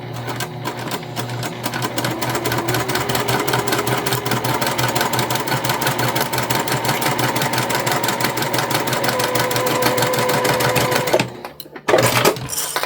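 A sewing machine runs at a steady fast pace stitching heavy quilted fabric for a basket, a loud, close, continuous mechanical whirr with rapid needle clatter, stopping briefly before a short restart at the end.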